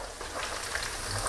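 Fish-sauce pork belly deep-fries in hot oil over high heat, producing a dense, continuous sizzle and crackle that sounds close and steady throughout the brief moment.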